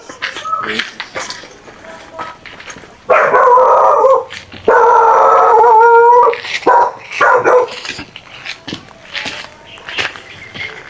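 A dog barks in short bursts, then lets out two long, loud howls before returning to scattered barks, with voices talking around it.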